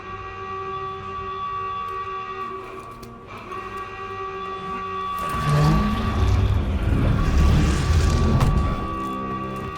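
In a Call of Duty: Vanguard story cinematic, sirens drone as steady sustained tones. Midway, a deep booming rumble swells over them and then eases off.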